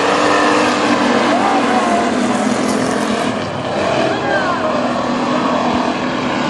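WISSOTA street stock race cars at Princeton Speedway roar off the green flag start, a loud, dense wall of engine noise that stays steady and close throughout.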